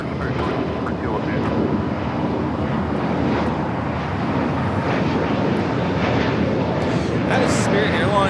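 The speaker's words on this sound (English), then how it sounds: "That is Spirit Airlines 2542 taking off to Atlanta on the A320neo" Spirit Airlines Airbus A320neo taking off from LAX bound for Atlanta, a loud continuous jet roar that swells slightly toward the end, with voices talking over the engine noise.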